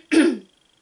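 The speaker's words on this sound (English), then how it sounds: "I'll just cough." A single close throat-clearing cough from one person, a short rough burst lasting under half a second before it drops into quiet, with no talking around it.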